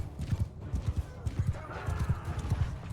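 Horse hooves clip-clopping steadily in an action video game, a close, even rhythm of muffled thuds with faint game ambience behind.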